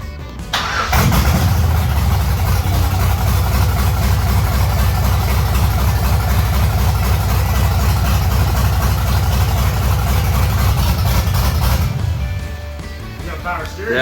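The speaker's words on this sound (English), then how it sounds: "But that idle is beautiful." A 1989 Chevy S10 Blazer with a swapped-in LS V8 cranks and catches, then settles into a loud, steady, deep idle close by for about eleven seconds before the engine is cut.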